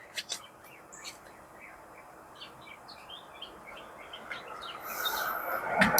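Faint bird chirps scattered over a soft hissy background, with a quiet voice murmuring and a louder rustling swell near the end.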